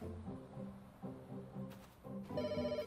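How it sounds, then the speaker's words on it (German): A telephone rings repeatedly in the Pets Hotel video game, its electronic trill faint and quiet, rising near the end over a soft game background. "Jetzt klingelt die ganze Zeit das Telefon jetzt, ne?"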